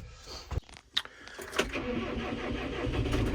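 A farm tractor, a 120 model, starts up with a few short cranking bursts, then catches and settles into a steady running idle close by, with faint clicks early on.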